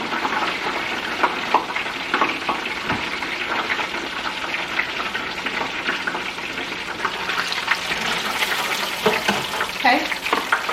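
Jalapeno poppers fry in hot oil with a steady, close sizzle, broken by scattered sharp pops and crackles that grow busier toward the end.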